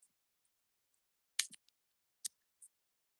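Scissors cut through gift bags during party preparations, a few quiet, sharp snips scattered across a mostly silent moment, close by and heard alone.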